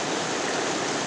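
Çona waterfall in a canyon, rushing loudly and close by as a dense, unbroken roar of falling water with no voices.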